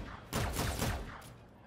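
Gunfire from the Volk rifle in a video game, a dense burst of repeated loud shots clustered over about a second, then tapering into a fading tail.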